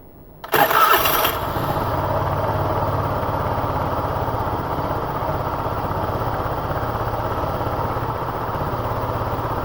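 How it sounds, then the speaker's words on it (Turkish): A Honda Spacy 110 scooter engine cranks briefly and catches, then settles into a steady, close idle that runs on evenly to the end. "Marşa basıyoruz."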